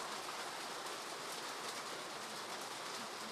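Heavy rain pours steadily, a loud, dense, unbroken hiss filling the whole stretch with no voices.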